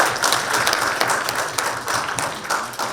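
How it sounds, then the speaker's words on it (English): A room of people claps for Vikas and his team at an investment event, producing dense, even applause with no real pause, moderately loud and close throughout. "a big round of applause for Vikas and his team"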